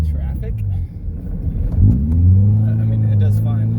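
Engine of a Subaru Forester converted to a truck, a steady loud low rumble inside the cab while driving in Friday night traffic, rising briefly as it accelerates, with a person talking over it.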